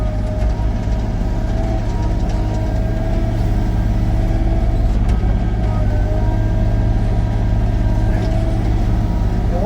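A mini excavator rumbles loudly and steadily while grading a gravel road with its blade lowered, a constant close engine drone with no clear breaks.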